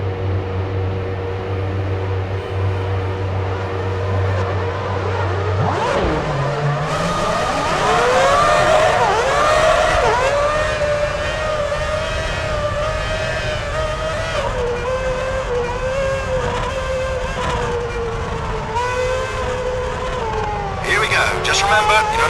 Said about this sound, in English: And the cars embark on their formation lap.